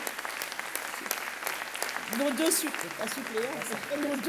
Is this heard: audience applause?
yes